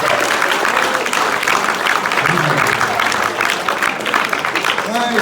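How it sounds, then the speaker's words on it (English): An audience at an after-prom hypnotist show applauds a contestant, with sustained, even clapping from a crowd and voices mixed in. "Let's give them a big round of applause for contestant number 1."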